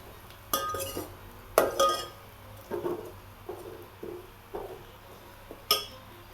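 A spoon clinks and scrapes against a pan while Nagpur-style patwadi masala is stirred and fried, with several distinct metallic taps spread across a quiet, steady background.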